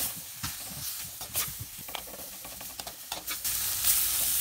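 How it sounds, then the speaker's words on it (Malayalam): Marinated prawns for a Kerala-style curry stirred into a hot pan, bursts of loud sizzling and hissing with scraping stirs, steam hiss rising toward the end, no voices. "നമ്മൾ മാറിനേറ്റ് ചെയ്ത് വെച്ചിരിക്കുന്ന പ്രോൺസ് ഇതിൽ ഇടാൻ പോവുക. നല്ലതായിട്ട് ഇളക്കി കൊടുക്കണം."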